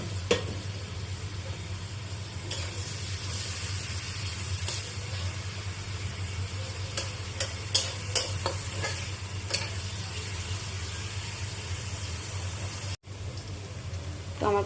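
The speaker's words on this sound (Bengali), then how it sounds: "আমি এখন এই যে পেঁয়াজ দিয়ে দিচ্ছি।" Onions sizzle steadily in a little oil in a pan over a gas flame, a continuous close frying hiss with a low hum beneath and a few soft clicks and scrapes from stirring.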